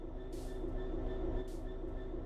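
A locomotive in the Train Sim World 3 simulator begins to move, giving a steady low rumble with a constant tonal hum and faint rail noise that holds at an even level throughout, with no talk.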